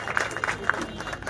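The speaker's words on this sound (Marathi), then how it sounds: "एकदा जोरदार ब्राह्मण महासभेसाठी जोरदार टाळ्या आपल्या सर्व समाज बांधवांनी वाजवायच्या आहेत" An audience at a Brahmin Mahasabha gathering breaks into applause, a dense patter of clapping heard briefly at moderate distance, mixed with a voice over it.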